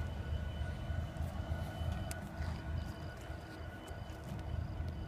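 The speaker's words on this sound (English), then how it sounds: "that's a loaded coal train, waiting on fuel" A loaded BNSF coal train sits at a fuel rack, its locomotives idling with a deep steady rumble and a faint high whine, continuous and unchanging at a moderate distance.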